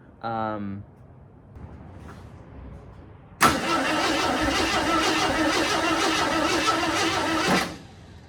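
A car engine cranks over sluggishly on a weak battery, in a car with a loose number 5 plug wire, as a steady grinding churn runs for about four seconds before stopping. A brief voice sounds beforehand.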